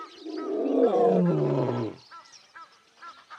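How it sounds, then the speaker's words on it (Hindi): A lioness roars loudly and close, one long deep bellowing roar lasting about two seconds, followed by quieter grunting breaths and faint background noise. "वो दहाड़ती है"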